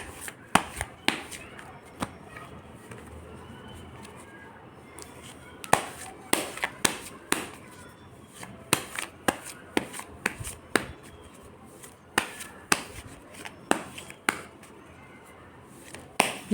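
Tarot cards shuffled by hand in a quiet room, a run of crisp riffling slaps and snaps, some in quick bursts and others spaced apart, close and fairly clear, with no talking over them.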